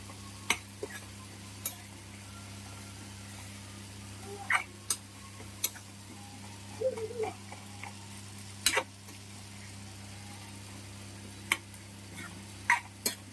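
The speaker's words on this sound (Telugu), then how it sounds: "లోపల ఇలా మ్యాష్ చేసుకొని కలిపేయండి మొత్తం" Cooked tomatoes are mashed and stirred into a pot of potato curry, giving faint, sporadic spoon taps and soft scrapes over a steady low hum, with no talking.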